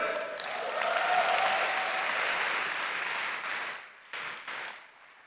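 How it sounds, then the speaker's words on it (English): Audience applause at the closing keynote of a conference, a dense wash of many hands clapping together that holds steady for about four seconds, then breaks into a few short trailing bursts before fading. "you clap on 3. 1, 2, 3."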